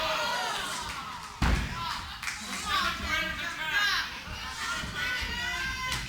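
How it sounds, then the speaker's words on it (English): A wrestler's kick lands on an opponent's spine during a tag-team wrestling match, producing one sharp, loud thud. The thud stands out over a noisy crowd of excited young voices and cheering that continues throughout. "Cannon, that sounded like a cannon as he kicked Dave right in the spine"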